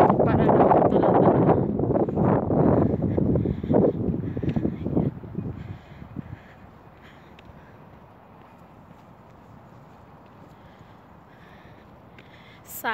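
Steady outdoor wind rumbles against the microphone on a sunny, cold day, loud and gusty at first with voices talking over it, then settling into a softer continuous rush.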